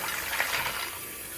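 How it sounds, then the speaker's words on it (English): Cold water pours and gushes steadily over a pot of freshly steamed shrimp to halt their cooking, a close, continuous splashing wash with no voices. "We'll add some more cold water,"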